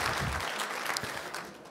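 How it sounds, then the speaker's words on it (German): A short burst of lively clapping from an audience, dense and even, fading slightly toward the end. "Einen kurzen, frenetischen Applaus"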